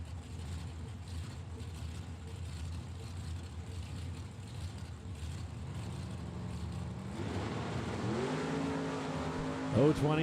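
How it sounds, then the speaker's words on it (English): At a drag race, a 1963 Chevy Corvette Roadster and a 1969 Camaro idle with a low, muffled engine rumble, then rev up with rising, rasping tones toward the end, heard fairly faintly and from some distance. "Andrew Sturt backs up his Canadian 63 Chevy Corvette Roadster, and John Erskine, Freeland, Michigan, 69 Camaro in the left lane"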